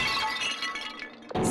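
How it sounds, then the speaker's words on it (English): A glass bottle smashing in a video game, a sudden bright shatter with tinkling fragments at the end of a short, tense stretch, loud and close. "I grabbed the monochrome bottle from the shelf and smashed it across her head."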